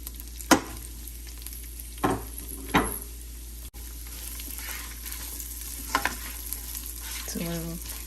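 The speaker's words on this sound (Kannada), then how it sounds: "ಸೊ ಈರುಳ್ಳಿ ಸ್ವಲ್ಪ ಕೆಂಪಗಾಗೋ ತನಕ ಇದನ್ನು ಚೆನ್ನಾಗಿ ಸ್ವಲ್ಪ ಫ್ರೈ ಮಾಡ್ಕೊಳ್ಳೋಣ." Onion and green chillies fry in a pan with a soft, continuous sizzle under a steady low hum, broken by a few sharp clinks of a spoon or spatula stirring against the pan.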